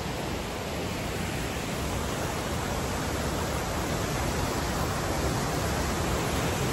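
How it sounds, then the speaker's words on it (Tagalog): Tappiyah Falls in Batad, Ifugao, pouring as a dense, unbroken roar of falling water that stays loud and steady throughout, with no voices over it. "Napakaganda ng falls guys."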